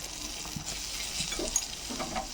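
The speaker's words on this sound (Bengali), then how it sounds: "তেলের মধ্যে নুনটা দিয়ে দেবো, আর দিয়ে দেবো একটু হলুদ।" Salt and turmeric dropped into hot oil in a pan, for a duck egg curry with cauliflower and potato, give a soft, steady sizzle with a few light stirring taps close by.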